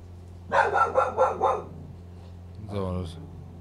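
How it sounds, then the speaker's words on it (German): A pet dog indoors barks at people walking past outside, a quick run of four sharp barks followed by one more after a short pause, close and fairly loud with no talk. "ist mein Hund, der draußen wieder irgendwas hört"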